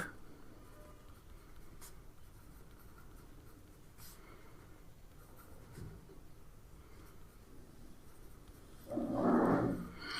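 A pen writes equations by hand on paper in faint, intermittent scratches during a maths lesson, with a louder rustle near the end.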